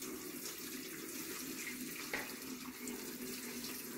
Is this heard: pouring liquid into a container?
yes